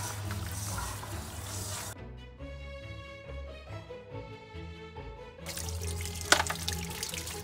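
An RV toilet is flushed to rinse out the black water tank, giving rushing, gurgling water that swells, drops to a quieter draining trickle, then surges again, with no voices.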